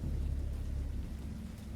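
A thunderstorm in the video game Dagon, with steady heavy rain and a deep, continuous rolling rumble of thunder, loud and enveloping, with no voices.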